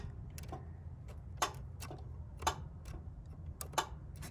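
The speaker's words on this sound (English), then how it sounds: "jump these two pins right here, and you'll hear the clutch click" Ford Focus AC compressor clutch clicking as its relay pins are jumped: several quiet, sharp clicks spaced irregularly over a low engine-bay hum.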